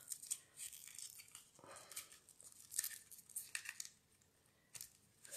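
Satin-edged craft kit ribbon, night blue with a gold border, tugged out of its packaging in a series of close, soft crinkling and tearing rustles with small rattles, no speech.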